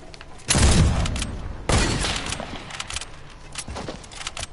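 Gunshots from a video game: two sharp loud cracks about a second apart, each trailing off in a rattling decay, followed by fainter scattered pops.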